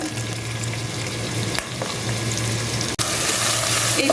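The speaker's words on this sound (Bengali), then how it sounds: "পেঁয়াজটাকে একটু আমি লাল করে ভেজে নিব" Two large chopped onions fry in a pan, giving a loud, steady crackling sizzle with faint stirring, a brief drop-out near the end, then the hiss resumes slightly brighter.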